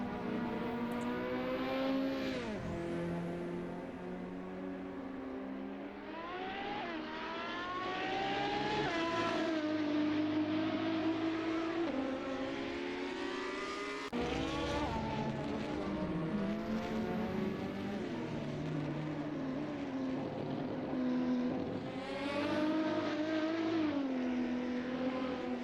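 Ferrari race cars howl around the Imola circuit, their engines loud and continuous, revs climbing and dropping through repeated gear changes as cars sweep past, with no talking.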